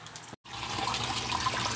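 Water gushes and splashes steadily into a pan holding freshly harvested catfish, close and continuous after a brief break at the start, with no talking.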